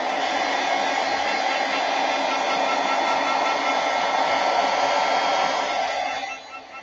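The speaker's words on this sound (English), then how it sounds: "So I'm just going to dry this off a little bit more so we can experiment." A hair dryer blows steadily to dry a watercolor painting, a loud, close whoosh that runs unbroken for several seconds and then drops away just before the end, with no voices.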